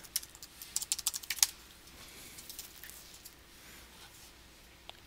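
A password is tapped out on a computer keyboard in a quick run of crisp, close keystrokes that stops after about a second and a half, leaving quiet room tone.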